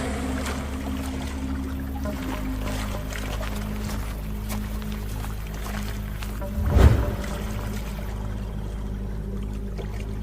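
A cartoon boat drifts along a river current at night, with a continuous low rumble of water and wash, a brief louder splash or swell midway, and no speech.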